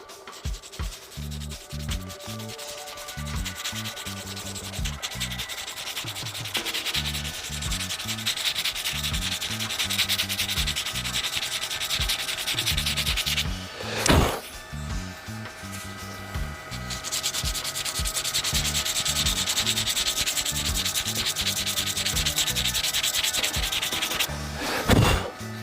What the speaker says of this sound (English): give it a little rub around the edge by hand, very lightly, just to take the sharp edge off